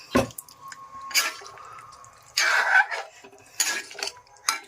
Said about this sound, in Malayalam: വെള്ളമൊക്കെ നമ്മൾ നോക്കി ഒഴിക്കണം ആവശ്യത്തിനല്ലേ?